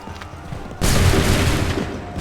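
Musket volley fire on the battlefield at Bunker Hill in Assassin's Creed 3, a sudden loud massed crack of many guns at once that rolls on into sustained rattling gunfire and rumble.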